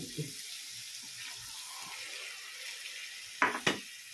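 Water is poured into a cooking pan of grated corn for mais con malunggay, a steady soft hiss that runs through most of the moment, followed by two sharp clanks near the end.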